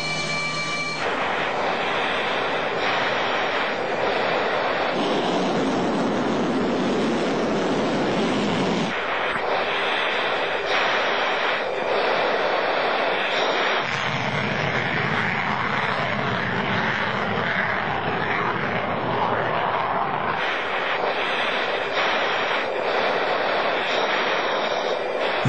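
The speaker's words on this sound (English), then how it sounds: "Yevgeny Frolov has flown the SU-37 many times." A Sukhoi Su-37 fighter jet roars through a flight display, a continuous loud jet engine noise whose tone and intensity shift in long sections as it maneuvers.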